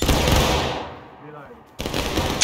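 Muskets fire in a volley in the War of Rights Civil War video game: a loud crash that rolls away into a fading echo, then a second burst of shots.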